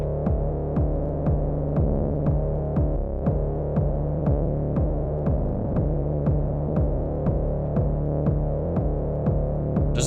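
Syntakt synthesizer tone with its LFO pushed into the tuning at FM-range rates, giving a steady throbbing, buzzy drone with evenly spaced pulses and clicks repeating throughout, fairly loud and alone.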